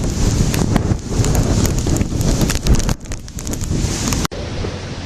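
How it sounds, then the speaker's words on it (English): Strong gusting wind from Hurricane Earl buffets a building in Halifax, roaring loudly and continuously with heavy buffeting against the microphone and brief lulls between gusts. "The wind comes out of the south, flecks off the top part of the building, comes down, and then blows that out into the street."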